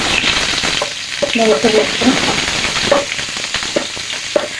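Chopped onion dropped into hot oil for a Malabar spinach stir-fry, a bright, close, steady sizzle with a few clinks and spits scattered through it.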